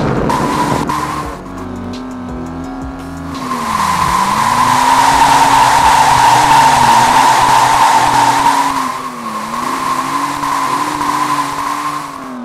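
Russian cars in an Android driving simulator game, cruising a city map: a steady engine drone rising and falling with throttle, overlaid by long, loud tire squeals and skids through turns, with no voices.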